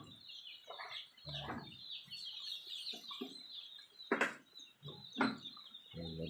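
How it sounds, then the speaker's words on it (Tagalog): Three-day-old chicks peep in a steady high-pitched chorus of small cheeps, fairly close, with a few louder broadband knocks and rustles mixed in. "Ganito ang mga sisiw pag maliliit pa."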